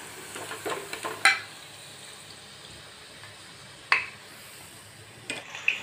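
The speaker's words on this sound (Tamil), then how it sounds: "இந்த மாதிரியே நம்ம உருட்டி வச்ச எல்லா உருண்டைங்களையும் சேர்த்து பொரிச்சு எடுத்துக்கலாம்." Raw banana kola balls deep-fry in oil on a medium flame, a soft continuous bubbling sizzle nearby, broken by a few sharp clinks of a utensil against the pan.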